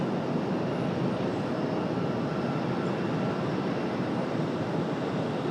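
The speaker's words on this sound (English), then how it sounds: "American Airlines 2363 off to Charlotte, 737 MAX 8." American Airlines Boeing 737 MAX 8, brand new, departing Raleigh-Durham for Charlotte, rendered as a constant airy jet engine roar of moderate, unchanging loudness with no speech.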